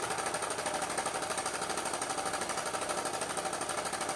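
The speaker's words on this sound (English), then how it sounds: "the piston moves to and fro with the magnet inside" A homemade linear generator of PVC, syringe and magnets, its piston shuttling to and fro off a flywheel, giving a rapid steady mechanical rattle that repeats without pause, close and moderately quiet.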